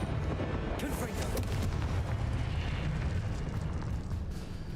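Fire-spell explosion in the Hogwarts Legacy video game, a loud dense roaring blast with crackling bursts that fills the whole stretch, rumbling continuously without pause.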